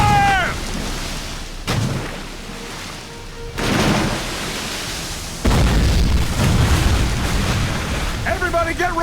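Cannons fire in the Civil War video game History: Civil War Secret Missions, with three heavy booms spaced a few seconds apart, each followed by a rumbling tail, among shouting voices.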